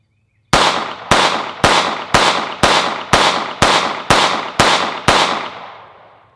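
A Sig Sauer P229 Legion pistol fires ten evenly spaced shots at a range, each one sharp and loud. Steel targets ring after the hits, and the last report fades into a lingering decay.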